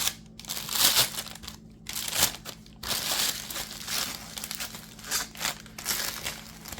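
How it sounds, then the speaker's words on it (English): Plastic piping bag being handled and crinkled while preparing a double-sided resin vase, giving continuous close crackly rustling in uneven bursts with no talk. "Get my piping bag ready."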